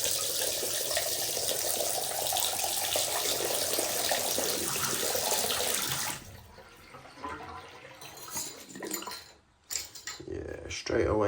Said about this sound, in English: let's run the water, see if it drains away